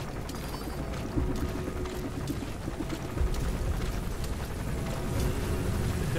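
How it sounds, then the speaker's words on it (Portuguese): Sandstorm in Metal Gear Solid V: a steady, dense roar of wind-blown sand sweeps on without pause, with gusts swelling a little louder partway through and near the end, no talk over it. "Tempestade de Areia, impressão minha?"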